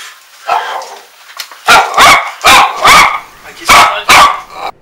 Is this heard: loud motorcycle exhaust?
no